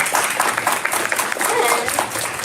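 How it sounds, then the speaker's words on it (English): A school board meeting audience applauds teachers and staff, a dense continuous patter of clapping filling the room for a couple of seconds, with voices mixed in. "So if we can give them a round of applause."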